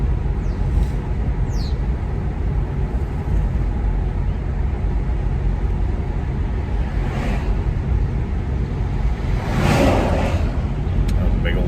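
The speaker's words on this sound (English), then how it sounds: "That was a big old truck." A large truck passing through a small town: a heavy, steady low rumble of engine and road noise that runs the whole stretch, with a louder swell near the end as it goes by, and some talk underneath.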